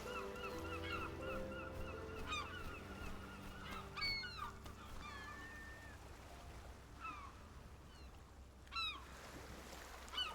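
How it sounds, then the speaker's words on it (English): Seagulls in the video game RiME cry repeatedly over a steady ambient hum and layered musical tones, several gull calls rising and falling at moderate distance. "Seagulls."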